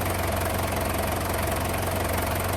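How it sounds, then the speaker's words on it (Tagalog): A diesel car engine with a misfire, running steadily with a rough, knocking idle, close up and continuous without any talk. "kaya gumaganyan yung engine"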